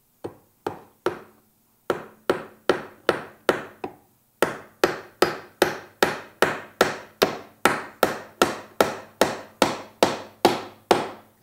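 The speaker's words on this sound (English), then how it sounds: "on this side, we're going to do just a single nail, and that acts as a hinge point up there" A single nail is hammered into birdhouse wood in a long run of evenly spaced, sharp close-up strikes, with a brief pause before the blows resume faster and steadier.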